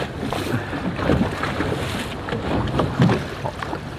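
A boat moves over open sea near a shipwreck in Shipwreck Bay, Hong Kong, heard from the bow: a steady rush of water and hull noise with gusting wind buffeting the microphone throughout.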